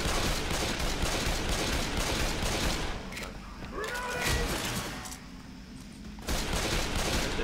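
Gunfire in the zombie shooter Left 4 Dead 2 on Xbox One, during a rooftop rescue: dense bursts of shots fill the start and end, with a quieter stretch of scattered pops and game noise between.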